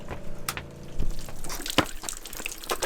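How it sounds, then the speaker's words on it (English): Water dripping outside a camper from an unplugged water heater, heard as a few irregular drips and small splashes over a low background hum, fairly faint. "I hear water dripping."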